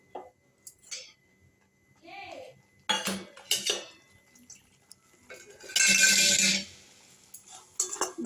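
Colour cauliflower being sautéed in a pan for a roast, with intermittent clinks and scrapes of a utensil against the pan and a brief louder burst of sizzling, spaced out with quiet gaps.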